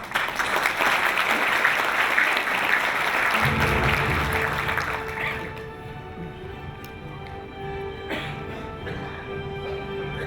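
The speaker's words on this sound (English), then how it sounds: "So please welcome him with a big round of applause." An audience greets a speaker at a peace gathering in Myanmar with loud, sustained applause that fades after about five seconds, leaving scattered claps and room noise.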